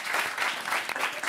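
Studio audience applause on a French TV entertainment show, a steady dense clapping wash filling the short moment without any voices.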